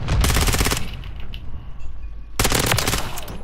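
Rapid automatic fire from an ISO 9mm submachine gun in Modern Warfare 3, loud and close, with a long burst, a brief pause and a second sustained burst.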